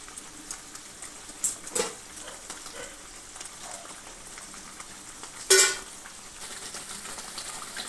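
Pabda fish are slipped one by one into a pan of hot oil, giving a low, faint bubbling sizzle broken by a few sharp clinks of utensils against the pan.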